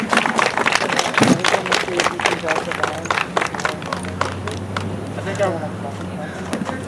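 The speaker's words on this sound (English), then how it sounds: "Everyone give a round of applause for Nathaniel" A crowd at an outdoor protest rally in a park in Monterey, California, claps in a burst of sharp, close hand-claps. The clapping thins out after a few seconds as outdoor ambience and talking continue.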